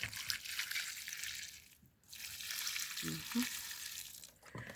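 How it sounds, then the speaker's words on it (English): Water poured from a container onto the root of a young lemon tree in a home garden, a soft steady splashing that pauses briefly and then resumes, faint and close. "So I'm going to pour some water at its root."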